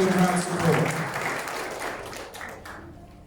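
A crowd at a taekwondo belt presentation ceremony applauds and cheers the performers, with a dense burst of clapping and voices that fades gradually over a few seconds.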